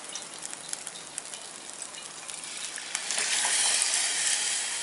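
Milk poured into rice and lentils that were roasted in ghee inside a cooker gives a steady hissing sizzle that swells louder and brighter partway through, close and without talk.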